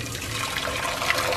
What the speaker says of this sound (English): pour hot water, all over the hole.